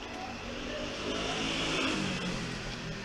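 A motor scooter engine drones past steadily, a continuous buzzing roar that swells slightly in the middle and stays fairly close throughout, with no voices over it.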